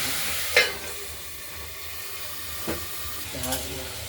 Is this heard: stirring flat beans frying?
yes